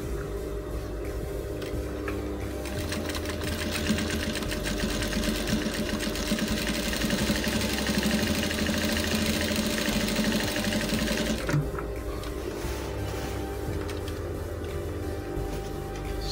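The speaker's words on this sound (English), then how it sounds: "I'm gonna give it a double stitch there." A sewing machine running steadily while double stitching a dashiki, a continuous close mechanical whirring chatter that holds for most of the clip before slowing and quieting near the end.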